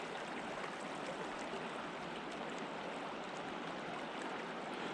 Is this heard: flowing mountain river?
yes